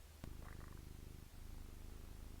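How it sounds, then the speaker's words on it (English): A cat purrs softly and continuously in a steady low rumbling rhythm, close but quiet, with one brief click near the start. "You can hear her purring."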